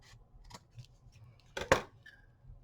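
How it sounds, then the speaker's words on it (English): Scissors cut into the top of a paper envelope, with a few faint soft snips followed by one louder, crisp snip close by, set against quiet room tone. "I'm going to cut this open at the top"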